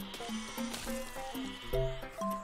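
A sheep bleats in the physics-building game Besiege, giving several short, wavering cries in quick succession over a low, busy game soundscape.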